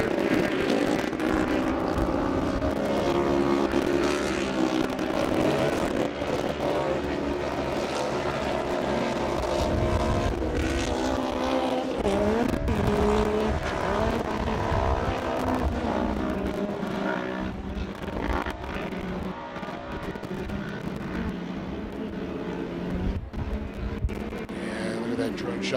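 UTV race cars, including a Yamaha, in production turbo and 1000cc classes, roar steadily and loudly throughout as engines rev and pass, with a commentator talking over the racing noise.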